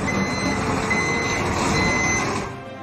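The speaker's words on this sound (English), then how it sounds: "this sound of a truck backing up" A truck backing up sounds its reversing alarm, a steady run of loud, evenly spaced beeps over engine rumble that continues for nearly three seconds before easing slightly at the end.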